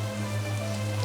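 Chopped garlic added to hot oil with dried red chillies for a jute-leaf stir-fry, a steady close crackling sizzle with a low hum underneath, brief and without voices.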